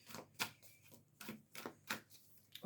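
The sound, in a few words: tarot cards being shuffled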